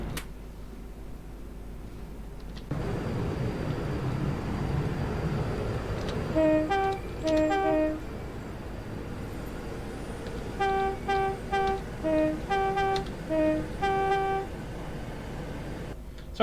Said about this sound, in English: So Darth Vader horn sounds good